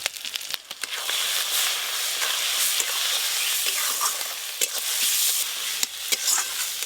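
Ginger, garlic and onion fry loudly in a pan with ground chili, cumin and turmeric, a constant close sizzle broken by scraping stirs.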